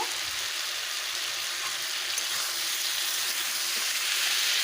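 Ground spice paste of cumin, ginger and dried chilli sizzles in hot oil among vegetables for a Bengali fish and vegetable curry, a steady close frying hiss with no talking.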